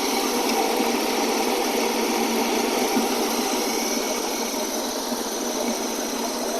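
A steady, continuous car engine hum idling hot in park at a constant level with no pauses or revving, heard close up; the engine is overfilled with oil.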